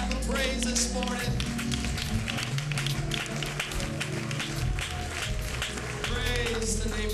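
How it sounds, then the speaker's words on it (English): A church congregation claps in praise during a Sunday morning service, producing dense, steady applause that fills the room continuously under voices and background sound. "give him a hand clap of praise this morning"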